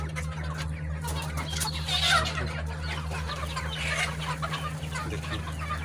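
Chickens cluck in scattered bursts over a steady low hum on a Misri hen farm, the birds fairly close and moderately loud, with no talking.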